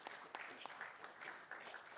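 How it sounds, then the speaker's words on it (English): A small audience at a talk claps briefly, a soft patter of scattered hands at moderate distance, quiet and uneven, with no voices over it. "I'm also gonna encourage everybody to give Dominic a round of applause"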